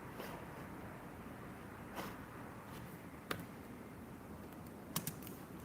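Typing on a basic Logitech Pebble keyboard: soft, sparse key clicks with a few sharper taps, heard faintly under a steady broadband hiss.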